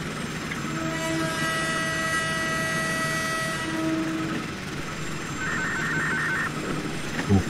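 A train runs steadily in the Trainz simulator on the Wonokromo–Sidoarjo line. A continuous rumbling roll carries sustained horn-like tones that rise and fade over it, with no talk.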